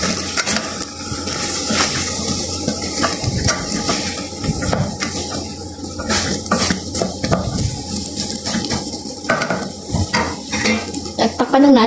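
Potato pieces going into a pot of dinuguan, pork blood stew made with chocolate, with steady stirring and scraping over a continuous sizzle, close and fairly loud, with occasional clinks of a utensil against the pot.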